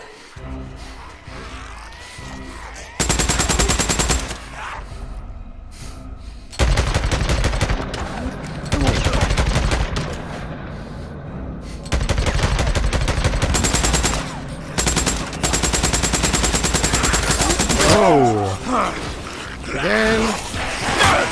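Machine gun fire in the PS4 game Days Gone comes in long, loud, rapid bursts of several seconds each, separated by short pauses filled with quieter game ambience.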